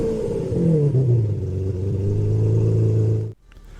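McLaren 720S GT3 racing engine in Forza Motorsport, loud revving that dips and settles into a sustained low drone, then cuts off abruptly to near silence in the final half second.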